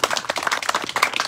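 A small group at an artists' open house celebration at the Madeline Island Museum gives a round of applause, uneven clapping from a modest crowd close by, brief and lively with no talk over it.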